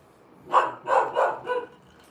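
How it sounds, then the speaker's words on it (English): A dog barks four times in quick succession, moderately loud, then falls quiet over a low background. "if Evie's gonna stand right here and bark at that guitar"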